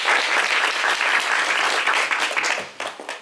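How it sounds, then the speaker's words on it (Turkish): Warm audience applause at a Turkish award ceremony as a women's cooperative head is invited to the podium, dense and continuous before tapering off near the end. "alkışlarınızla kürsüye davet ediyoruz"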